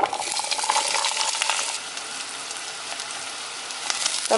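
Shallots sauté in hot oil with fennel seeds and black peppercorns in a pan for Kerala mutton curry, a dense close sizzle and crackle with stirring scrapes, louder at first then settling, with a clink at the end.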